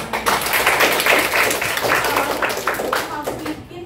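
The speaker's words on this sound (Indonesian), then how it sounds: "Masih tepuk tangan buat teman-teman" Classmates clap for each other in a school lesson, a brisk burst of hand clapping with individual claps audible, fairly close and lively, tapering off toward the end.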